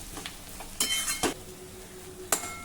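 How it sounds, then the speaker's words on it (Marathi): Ground masala paste is being sautéed with onions in a pan: a low, steady sizzle runs underneath a few sharp clinks and scrapes of a spoon against the pan, with no talking. "हे वाटण घातल्यानंतर कांद्यासोबत आता 2-3 मिनिटांसाठी हे वाटण देखील आपण जरा परतून घेऊ।"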